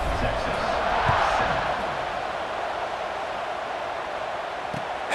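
Stadium crowd in EA Sports College Football 26 roars steadily at kickoff, a dense wash of cheering with a few thuds, with no voices standing out.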